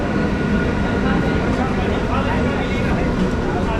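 A steady, loud rumble of a train rolling along fills the whole stretch, with voices talking over it.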